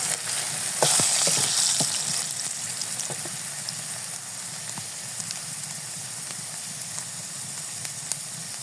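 Potatoes fry in hot oil in a kadai during a Bengali fish curry preparation, a steady close hissing sizzle with faint crackles and small pops, unbroken throughout and without speech.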